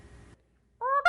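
A man imitates a goose call by mouth, a short two-note honking cry rising at the end after a brief pause, loud and close, preceded by a faint low murmur.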